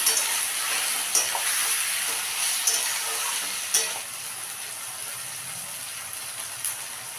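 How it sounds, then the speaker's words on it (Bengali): Onion, ginger, garlic, green chilies and tomatoes being sautéed over a high gas flame, a continuous close sizzle with several sharp scraping and stirring knocks of a spatula against the pan, no talking. "তো পেঁয়াজ আদা রসুন কাঁচা লঙ্কা টমেটো সব আমার কষানো হয়ে গেছে"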